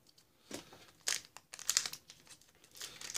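A Pokémon Fates Collide booster pack wrapper crinkles and tears open in several sharp, close bursts of crackling foil and plastic.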